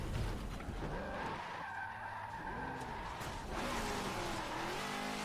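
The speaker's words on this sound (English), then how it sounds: "We have officially spun out." A 1000-horsepower limousine in Forza Motorsport 7 on the Nordschleife spins out, tires skidding and squealing in long wavering tones over a steady engine roar, loud and continuous throughout.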